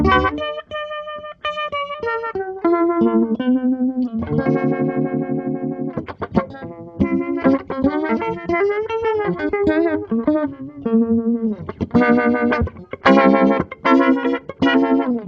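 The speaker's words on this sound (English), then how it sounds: "Almost sounds a little bit like an auto wah when it's both the controls are dimed here." An electric guitar plays a choppy phrase through a modulation pedal at maximum speed, making the tone warble and sweep quickly like an auto wah, loud with no talking.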